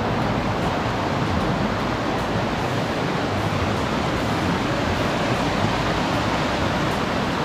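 Rushing water in Canada roars as a dense, unbroken wash of noise, loud and steady throughout, with no voices.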